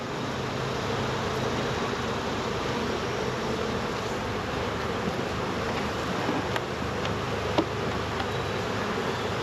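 Honey bees hum in a steady, dense buzz throughout an open beehive inspection, close and continuous with no talking.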